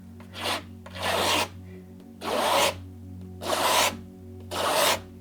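A palette knife scrapes acrylic paint across canvas in five rough, rasping strokes, each about half a second long, evenly spaced and close up over a faint steady background hum, with no talking.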